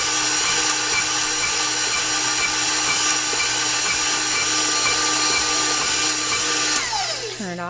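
An electric mixer whirs continuously through brandy and eggnog cake batter, a loud, steady high-pitched motor drone close by, then its pitch falls as it is switched off and winds down at the end, with no talking.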